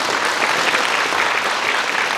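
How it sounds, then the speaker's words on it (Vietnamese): Audience at a NAGA corporate event giving a round of applause for an introduced speaker, a loud, dense, continuous clapping from a large crowd. "Mời một tràng pháo tay."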